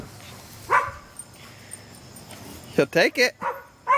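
A small dog gives a few sharp barks or yips close by, mixed in with people talking to a young child in a home.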